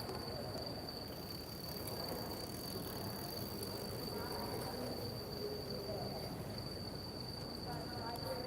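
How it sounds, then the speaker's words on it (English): Crickets chirp steadily at night in a dense, continuous high-pitched drone, with one insect's sharp trill standing out above a soft hiss of background insects, faint and distant throughout. "A lot of crickets, as you can hear."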